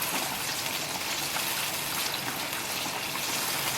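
Water poured a little at a time into a hot pan of garlic for aglio olio spaghetti, giving a steady, loud hissing sizzle with no talk over it.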